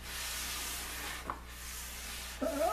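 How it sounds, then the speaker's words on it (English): Wood is hand sanded for a pub table build, with a steady close rasping rub that pauses briefly twice, ending with a faint higher squeak. "I want to get this sanding done"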